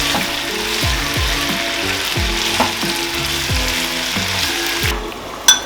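Lemon pepper chicken sizzles and fries steadily in a pan over a medium flame, with a continuous bubbling hiss and a repeating rhythmic clicking pattern running throughout, close and fairly loud.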